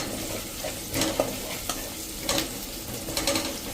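Two green chillies and an inch of ginger stirred into cooked onions in a pan over a medium flame for a dhaba-style curry: steady sizzling with several louder scraping bursts from stirring, close up, no voices.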